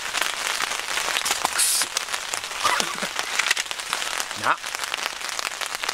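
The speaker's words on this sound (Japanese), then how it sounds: "なんかめちゃめちゃ降ってきたな。" Heavy rain drums steadily on a two-room shelter tent at a campsite, a dense constant hiss with scattered louder drips, and a man mutters briefly over it.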